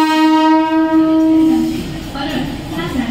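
A fast Mumbai local train bound for Chhatrapati Shivaji Maharaj Terminus blares a long, loud horn for about a second and a half, then fades into the rushing rumble of the passing carriages.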